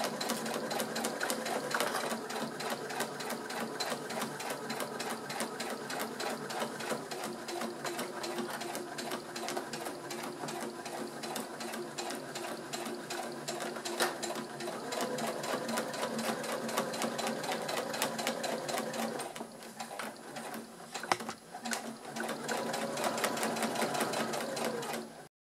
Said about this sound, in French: je suis tout bêtement la couture du bourrelet du passepoil